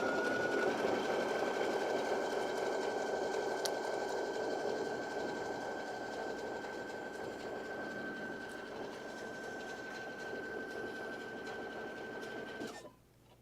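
Sewing machine running a 3/8 inch seam in one continuous, fairly close whir that holds steady for about thirteen seconds and then stops abruptly.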